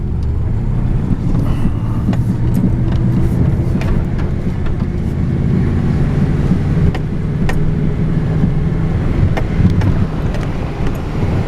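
A car drives along a rural road, its engine and tyre rumble steady and close with wind noise buffeting the microphone throughout.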